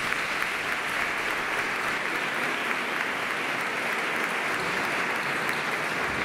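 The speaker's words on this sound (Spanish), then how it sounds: "Fuerte aplauso," Sustained applause from an audience at a gala presentation event in Ronda, a dense, even roar of many hands clapping that continues steadily without a break, no voices over it.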